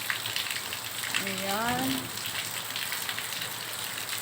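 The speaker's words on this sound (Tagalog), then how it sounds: "pumapatak ang ulan" Rain falling in a market alley on an overcast afternoon, a steady broadband patter with a voice speaking briefly in the middle.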